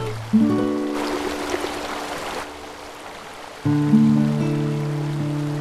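A river runs with a steady, gentle rush of flowing water. Low tones hum underneath and come and go.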